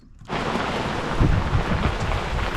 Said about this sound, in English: I can hear some thundering in the distance, but it's pretty distant